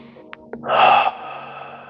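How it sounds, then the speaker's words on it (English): A deep breath drawn in and let out during a tai chi and qigong session, a single close, audible breath swelling briefly after a couple of small sniffs. "And breathe in and out. Take an extra breath."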